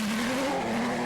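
Porsche 930 Turbo rally car engine screaming at high revs at the Ypres Rally, a sustained buzzing drone that wavers slightly in pitch, close and loud.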